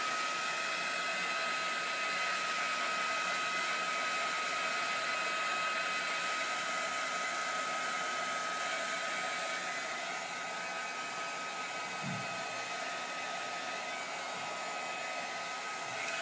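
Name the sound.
dryer drying Glimmer Mist puddles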